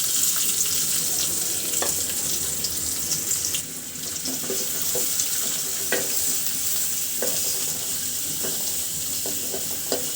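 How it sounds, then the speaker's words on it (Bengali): Chopped onion and green chili sizzle in hot oil for a pumpkin dish, a steady bright hiss with occasional stirring clinks and scrapes, close and moderately loud, no talking. "দিয়ে দিচ্ছি পেঁয়াজ কুচি এবং কাঁচামরিচ ফালি।"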